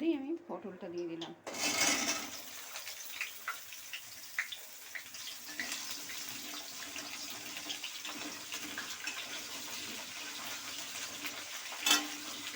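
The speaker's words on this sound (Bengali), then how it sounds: "এই তেলের মধ্যেই আমি পটলটা দিয়ে দিলাম।" Pointed gourd (potol) dropped into hot oil left from frying potatoes, sizzling steadily at close range after a brief burst of talk and clatter, with a sharper crackle near the end.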